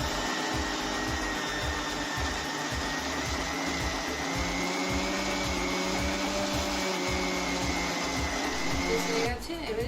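Electric grinder churning soaked lentils into a paste, a steady loud whirring motor with a pulsing low rumble throughout, stopping abruptly at the end, with a voice speaking briefly.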